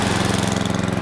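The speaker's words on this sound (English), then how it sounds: "Don't expect that snowblower to get much of a break." A snowblower engine runs steadily close by, a loud, continuous mechanical drone with a regular low throb, clearing 4 to 6 inches of fresh snow from a driveway during a snowstorm.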